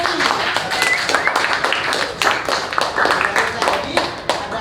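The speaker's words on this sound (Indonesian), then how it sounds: "Oke, tepuk tangan untuk Chelsea." A classroom of primary school pupils claps for a classmate named Chelsea, a dense, continuous patter of many small hands that stays steady and fairly loud for several seconds, with children's voices mixed in.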